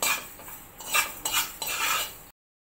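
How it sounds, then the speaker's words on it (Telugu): Fenugreek and mustard seeds dry roasting in a pan over a medium flame, with a few close metallic scrapes and rattles of a spoon stirring against the metal, then abrupt silence. "మీడియం ఫ్లేమ్లో పెట్టి ఇవన్నీ డ్రై రోస్ట్ చేసుకోవాలి."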